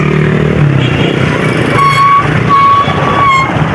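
Busy road traffic beside a livestock market where goats are led along, with a steady engine drone, motorcycles passing close and several short horn toots near the end.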